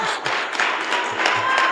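A church congregation applauding during an evening service, brisk, close clapping from a modest crowd with a few sharper individual claps standing out.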